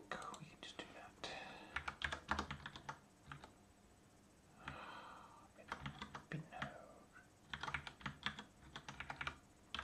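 Rapid bursts of keystrokes on a computer keyboard come in clusters separated by short pauses, close and fairly quiet, with soft whispery voices mixed in among the clicking.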